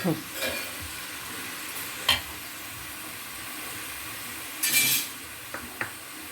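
Oil frying in a pan for a fish curry, a faint continuous sizzle broken by a few clinks and scrapes of a spoon stirring against the pan.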